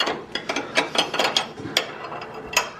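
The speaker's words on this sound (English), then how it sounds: "Double wrench method." Wrenches ratchet on 21mm bolts of a Trailblazer SS truck frame during a control arm swap, giving a close series of sharp metallic clicks in an uneven rhythm with no talk.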